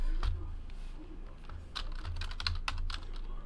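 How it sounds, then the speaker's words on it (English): Rapid, close typing on a computer keyboard, with a steady patter of clicks over a low hum, a few faint crinkles mixed in. "let's type in the hits"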